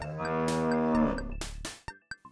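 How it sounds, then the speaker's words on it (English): A cow moos once in a long, loud, close bellow that drops in pitch, followed by a few short knocks and clatters, with no speech. "cow."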